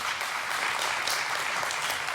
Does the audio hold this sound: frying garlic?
no